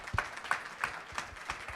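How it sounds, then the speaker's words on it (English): A small crowd at a wing cooking contest claps for the competitors, with light rhythmic applause from a few people, faint and fairly close. "A round of applause for all our competitors."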